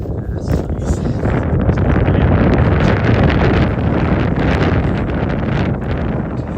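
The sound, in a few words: cold wind blowing on a morning trail run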